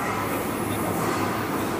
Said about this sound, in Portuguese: não dá pra gravar no metrô